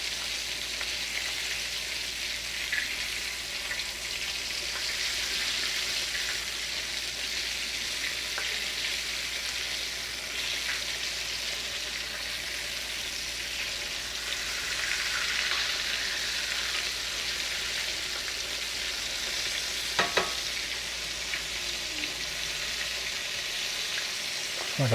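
Buttermilk chicken pieces fry in hot oil with a steady, dense sizzle throughout, close and even, with a few brief clanks near the end and no talking.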